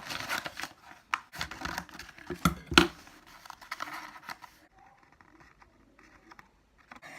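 Sharp, irregular snips and crisp cutting sounds of scissors through paper, close up, several in a row before trailing off into quiet.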